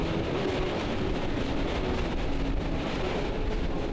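A Howrah–Arambagh local train runs fast along its route, giving a steady, loud, broadband rumble and rush throughout, with no talk.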